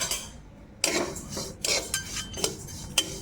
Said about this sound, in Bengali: তো এবার তিলটা আগে একটু ভেজে নিতে হবে। তো কড়াতে দিয়ে দিচ্ছি।